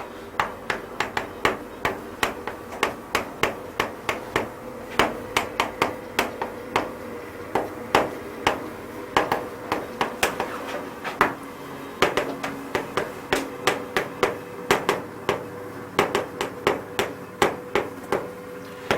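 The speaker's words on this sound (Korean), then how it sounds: "또 밖에 공사 소리가." Construction hammering outside, a long run of sharp, loud, repeated strikes falling in an uneven but steady rhythm, sometimes in quick bursts, with no speech.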